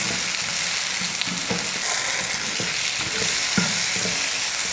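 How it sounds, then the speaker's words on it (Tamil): Tomatoes and onions sautéing in a pan, a steady, loud sizzle that runs throughout, broken by occasional soft scrapes and taps from stirring, close up. "தக்காளியும் நல்லா மசிஞ்சு வரட்டும். அது வரைக்கும் வதக்கும்."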